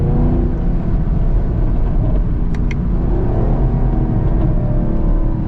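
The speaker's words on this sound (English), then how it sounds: "you could really hear the exhaust" Deep, steady exhaust rumble from a 2023 Chevrolet Camaro SS convertible with the windows down, a continuous loud drone with a couple of brief high clicks midway and no talking.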